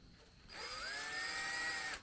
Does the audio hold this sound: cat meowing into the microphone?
no